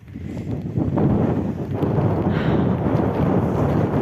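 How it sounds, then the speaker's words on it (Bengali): Strong wind in a snowy recreation-centre parking lot in Edmonton, Canada, buffets the microphone as a loud, steady low roar that rises after the first second and holds throughout. "ভীষণ বাতাস"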